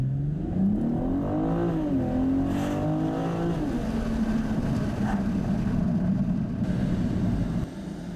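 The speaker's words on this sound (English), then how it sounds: "So that's full acceleration, again, Sport Plus mode, and the transmission in the Sport mode as well." A BMW M440i xDrive in Sport Plus mode under full acceleration, a loud engine note rising in pitch through the gears with a brief dip at a shift, then holding a strong steady roar.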